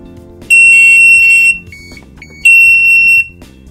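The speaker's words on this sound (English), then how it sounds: "Once the central display reaches the first alarm threshold, press the accept test to mute the alarm." An Analox Ax60+ gas detector sounds two loud, sustained electronic alarm tones during a proof test, each lasting about a second, separated by a short gap with a brief chirp in between.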